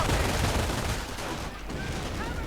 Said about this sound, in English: BARs firing